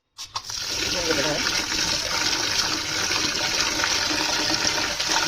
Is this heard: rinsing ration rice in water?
yes